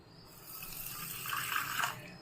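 Water poured into a bowl of rock salt and turmeric powder while making raw banana chips: a short, close splashing pour that builds and grows brighter toward the end, with no voices.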